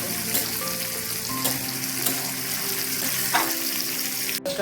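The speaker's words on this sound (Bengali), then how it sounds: "হালকা ভাজা হয়ে যাচ্ছে" Onions and lentil paste fry in a pan, giving a steady, dense sizzle with a few faint clinks of stirring, close and continuous with no talk.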